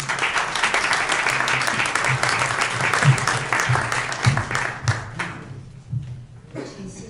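Audience applause opening a university science and innovation fair, a dense burst of clapping from a crowd that swells, then thins to scattered claps and fades out, with a voice briefly heard near the end.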